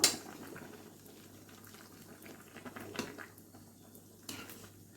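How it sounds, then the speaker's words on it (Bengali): Chana dal cooking with jackfruit in a pot simmers with a soft, steady bubbling close by, broken by a few faint clinks of utensils, with no talk. "এটা এখন ফুটতে থাক"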